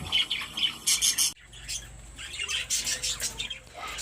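Crested parakeets squawk and chirp in a rapid, close chorus, with loud harsh calls in quick bursts, a brief pause, then a renewed flurry of chattering squawks.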